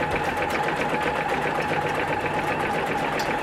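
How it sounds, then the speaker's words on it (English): Sewing machine stitching quilted cushion fabric, running continuously at a steady fast pace with a rapid rhythmic clatter, close and constant throughout without any voices. "this is just mindless sewing, really, nothing major"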